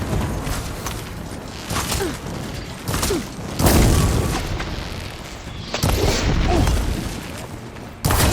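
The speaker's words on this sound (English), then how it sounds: "I should fire at the machine riders on the field." Dense battle noise from the video game Horizon Forbidden West, with weapon fire and explosions against machines: repeated heavy booms, crashes and rumbling blasts follow one another almost without pause at a loud, constant level.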